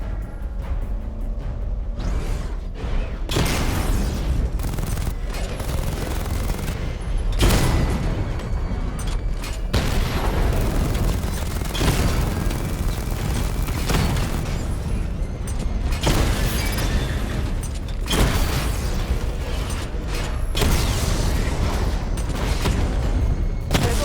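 Repeated heavy explosion bursts from a missile barrage in Batman Arkham Knight, with loud booming blasts recurring every few seconds over a continuous rumbling mechanical bed and no talking.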